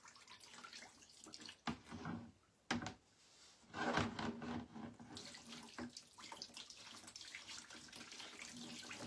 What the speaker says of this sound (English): I'm scooping the water out of the bucket and pouring it over the paper, then it drains into the other container.